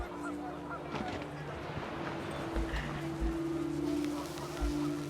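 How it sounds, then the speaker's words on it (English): Panicked geese honk in the video game What Remains of Edith Finch, scattered short honks over a low, steady ambient drone and wind. "The wind picked up and panicked geese appeared and quickly went."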